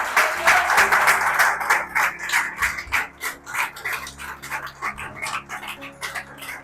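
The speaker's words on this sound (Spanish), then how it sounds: "Den un aplauso al Espíritu Santo" A church congregation claps together, with a sharp burst of applause at first, then a rhythmic, pulsing clap that keeps going over a low hum of music or organ. The sound is moderately loud and carries through the whole space.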